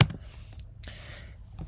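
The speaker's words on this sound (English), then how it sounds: "So I'm going to type payload" Keystrokes on a computer keyboard while coding a REST API test, a handful of separate close clicks at an uneven pace, no talking.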